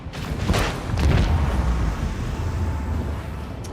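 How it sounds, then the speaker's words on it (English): A volley of macro cannons fires from a starship in the Warhammer 40K: Rogue Trader game, two deep booms rolling into a sustained low rumble that holds steady to the end. "Macro cannons, volley!"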